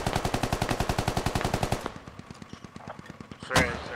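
Automatic gunfire from the military shooter game Squad rattles off in a fast, loud burst of about two dozen shots, then stops, followed by quieter rumbling and a single sharp crack near the end.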